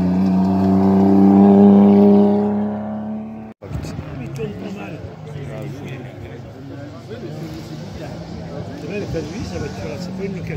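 An 80-year-old car drives in a rally on a hot sunny day, a loud steady engine drone that cuts off abruptly, then rough rumbling road and engine noise continues under chatter from nearby people.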